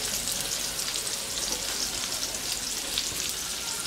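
About two kilos of native chicken hits a hot pan for spicy adobo, setting off a steady, dense sizzle and crackle that stays loud and even throughout, with no talking.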